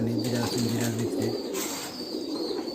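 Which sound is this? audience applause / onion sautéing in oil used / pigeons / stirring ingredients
pigeons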